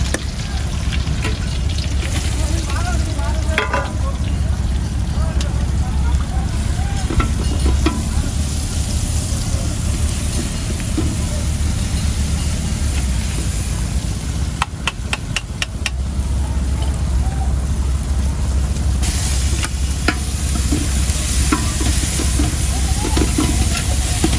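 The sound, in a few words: ground spice paste frying and being stirred in a pot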